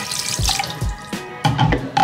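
Water runs from a tap at an airport into a filter bottle, with a close, brief splashing and trickling in a few short bursts, and no voices.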